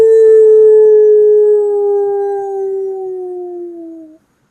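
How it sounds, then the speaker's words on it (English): A single long wolf howl, played as a sound effect, holds one loud clear tone that slowly falls in pitch for about four seconds before stopping abruptly into silence. "not the same type of howl that you might have heard recently."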